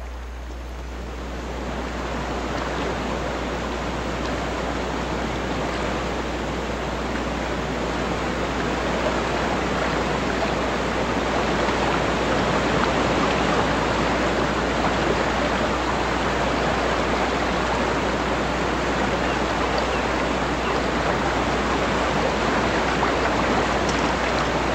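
A stream flows steadily in a broad, even wash of water noise that swells in over the first couple of seconds, then holds constant and close with no voices.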